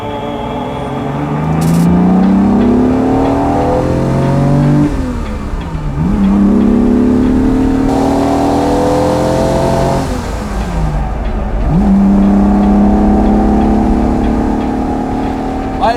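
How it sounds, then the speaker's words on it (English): A Ferrari 250 GT engine revs up repeatedly, rising in pitch through several gear shifts, then dropping and climbing again; loud and close, with no talk. "I love the sound of the engine."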